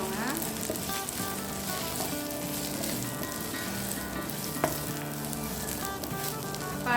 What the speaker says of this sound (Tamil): இதோட இப்போ தேங்காய் திருவிலையும் சேர்த்துக்கலாம் நல்லா மிக்ஸ் பண்ணி விட்டு